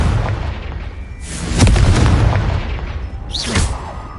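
Confringo blasting spells from the Hogwarts Legacy video game go off as loud, booming explosions. Two main blasts arrive a couple of seconds apart, each with a rushing tail, and the second carries a brief whistling streak.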